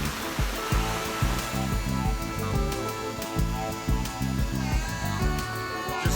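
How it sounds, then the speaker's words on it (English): Hot spring water rushes steadily over rapids close by, a constant loud wash with splashy, uneven pulses of flowing water. "Just coming up the rapids here"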